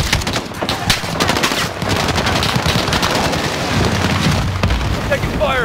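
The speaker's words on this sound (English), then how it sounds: "We're taking fire from the residence." Rapid automatic gunfire and booming shots rattle through a Call of Duty: Modern Warfare firefight at an embassy compound, loud and close, with a sustained staccato burst running continuously under the combat.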